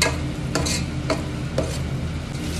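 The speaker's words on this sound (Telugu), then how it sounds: "కొంచెం ధనియాల పొడి, ఒకసారి కలుపుకుందాం." Coriander powder being stirred into a Telugu-style egg curry, with a spoon scraping through the thick gravy in a few distinct strokes over a low, steady simmer and faint sizzle.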